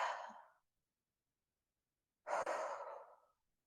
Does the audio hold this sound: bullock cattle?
no